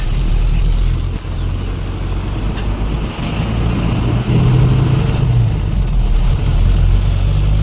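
A new truck pulls onto a main road, its engine a heavy, continuous low rumble heard close from inside the cab, mixed with wind noise buffeting the microphone.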